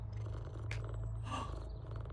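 A cat purring in PowerWash Simulator 2, a low, steady rumbling purr with a couple of faint soft swishes over it.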